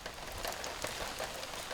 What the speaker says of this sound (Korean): 더위를 달래줄 시원한 소나기가 내립니다.